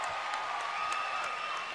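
Home fans in a basketball arena cheer and applaud for a South East Melbourne Magic game against the Sydney Kings in 1998, a steady wash of crowd noise throughout with a few sharper claps.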